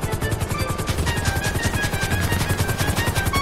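Rotor chop from a helicopter in the zombie mode of the video game GTA 5: a steady, loud rhythmic thudding with a whining engine tone, continuous throughout with no talk.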